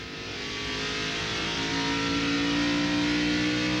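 Onboard race car engine on P.J. Jones's car during a 2000 NASCAR Busch Series race, a loud continuous high-pitched drone that climbs steadily as the car accelerates down the straight, heard alone.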